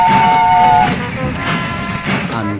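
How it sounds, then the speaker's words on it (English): A steady steam engine whistle rings out at the start, then the chuff and rumble of a train take over, fairly loud and close. "Presently, he heard a whistle."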